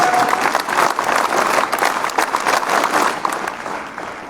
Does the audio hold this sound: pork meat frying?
no